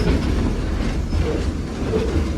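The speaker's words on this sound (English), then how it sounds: "this train is going fast" A train runs fast on the rails with a continuous deep rumble and rattling clatter, loud and close, with no voices.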